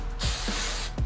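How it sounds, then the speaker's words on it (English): Oil sheen is sprayed onto braided hair for a sleek low ponytail: two short aerosol hisses, one at the start and another near the end, close to the microphone, with no speech. "you're going to get your oil sheen and you're going to spray your braided hair."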